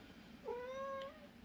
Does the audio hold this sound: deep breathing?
no